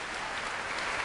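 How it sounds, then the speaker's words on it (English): Concert audience applauding steadily at the BBC Proms in 2008 as conductor Antonio Pappano walks on stage to lead the National Youth Orchestra of Great Britain; dense, even clapping of a large hall crowd throughout. "applause now for Antonio Pappano, coming on stage to conduct the National Youth Orchestra of Great Britain"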